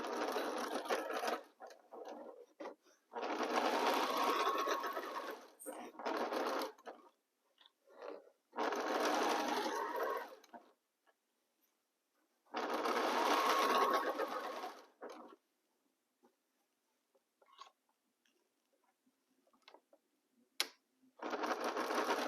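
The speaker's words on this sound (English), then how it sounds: "1/4 inch and start sewing." A sewing machine stitches a quarter-inch quilt seam in several separate runs, each a few seconds of fast, steady whirring chatter broken by short pauses and faint handling noises, close and clear with no talking.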